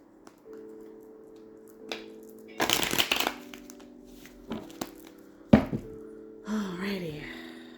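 Tarot cards being shuffled and handled in a few scattered bursts of papery rustling and snapping, with a longer flurry near the start, heard close up while a person speaks in the background.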